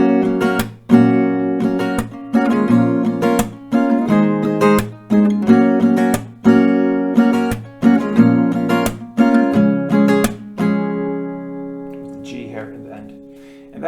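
An acoustic guitar plays the pre-chorus of a song, with a steady strummed chord pattern in repeated rounds that lets the last chord ring out alone at the end.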